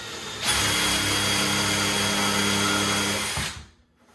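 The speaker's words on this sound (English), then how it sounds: "First step is I go at the bottom, and then I countersink." A power drill fitted with a T40 star bit countersinks a screw hole while a custom three-piece vanity is being installed. It gives one loud, steady whir of about three seconds that then winds down, with no talk.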